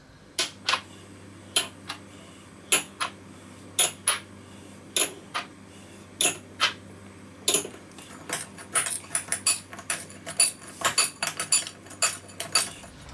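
Spice rub being mixed in a bowl for oven-cooked pork spare ribs: a string of sharp, clinking utensil-on-bowl taps at an uneven rhythm, close and fairly loud, growing quicker and denser toward the end over a low steady hum.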